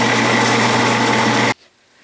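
Metal lathe spindle spinning steadily during a cutoff operation, a loud constant whirring hum that stops abruptly near the end, leaving quiet.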